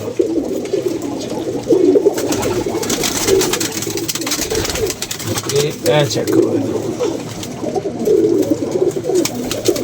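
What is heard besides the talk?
pigeons cooing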